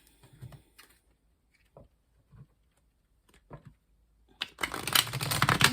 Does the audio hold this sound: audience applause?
no